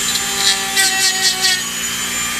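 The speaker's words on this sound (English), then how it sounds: "with the Dremel and a really fine stone, I can not only get into the little corners" A Dremel rotary tool fitted with a fine stone polishes the edges of exotic leather 1911 pistol grips, a steady high motor whine with short grinding pulses as the stone contacts the leather, close and loud.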